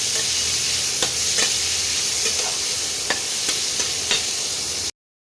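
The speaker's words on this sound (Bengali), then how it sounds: "পেঁয়াজ কুচিগুলো পেঁয়াজগুলোকে একটু লাল লাল করে ভেজে নিতে হবে।" Chopped onions fry in oil with a steady, close sizzle, and a few soft stirring clicks and scrapes break in at intervals until the sound cuts off abruptly.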